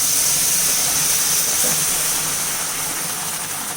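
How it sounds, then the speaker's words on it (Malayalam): Boiling water is poured onto roasted rice for a green peas pulao, giving a steady, close hiss of sizzling steam that holds level for a few seconds, with no talk. "തിളപ്പിച്ച് വെള്ളം ഒഴിച്ചുകൊണ്ട് ഇപ്പോൾ തന്നെ നല്ലോണം തിളച്ച് കിട്ടിയിട്ടുണ്ട്"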